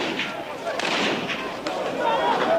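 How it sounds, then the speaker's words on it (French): Scattered gunshots ring out during looting in a Kinshasa neighbourhood, a few sharp reports over continuous street noise and crowd commotion. "quelques coups de feu qui ne changent rien"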